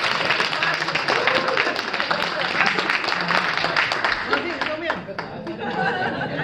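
Applause at a community Ramadan iftar gathering, a crowd clapping steadily with chatter and scattered laughter mixed in, voices talking over the clapping at moderate loudness.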